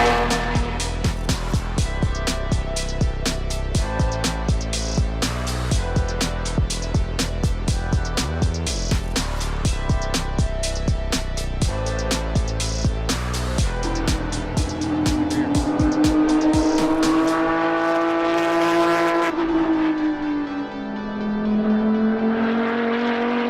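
Race cars run laps at Watkins Glen in the rain, with a loud, close engine revving hard through rapid gear changes and bursts of throttle, then a sweeping high engine tone as a car passes, wet track noise underneath.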